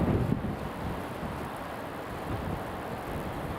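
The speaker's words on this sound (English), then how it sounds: "It's quite blustery today. Very blustery, in fact." Blustery wind buffets an outdoor microphone at an airport, a steady broadband rumble that gusts louder near the start and then holds as a constant roar, with no voices.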